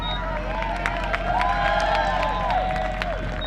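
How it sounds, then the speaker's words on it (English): A home crowd at a high school baseball game cheers and claps for a game-tying run, a sustained roar of voices and applause spread over the stands with a low hum beneath. "Big cheer from the home faithful here for that one"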